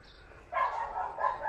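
Dog barking outdoors in a neighborhood, a short burst of two or three moderately loud barks after a brief quiet moment, alone without talk.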